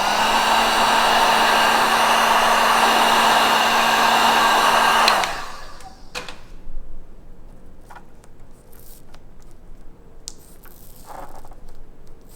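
A heat gun blows steadily and loudly for about five seconds while warming paint protection film on a BMW M3 quarter panel, then shuts off, leaving faint handling rustles and small clicks.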